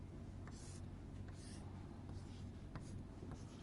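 Chalk scratching across a classroom board during a digital electronics lecture, short faint strokes repeating at an irregular pace over a steady low room hum, with no talking.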